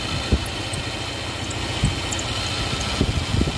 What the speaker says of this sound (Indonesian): Nah, suara mesinnya juga masih halus ya.